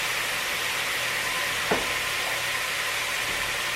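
Lean venison cooking down in a pan, a steady, close sizzle and fry with a single brief clack of a utensil midway, no voices.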